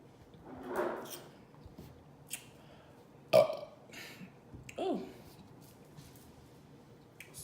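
Loud, close burps after drinking Sprite and lemonade: a few separate belches with short gaps, the strongest near the middle, in an otherwise quiet room.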